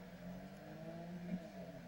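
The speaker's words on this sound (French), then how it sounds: "c'est pas du NOS, c'est le turbo qui fait ça." Turbocharged car engine in the video game GTA 5 drones steadily at a near, even pitch, a low whooshing hum that swells briefly toward the end with no talk over it.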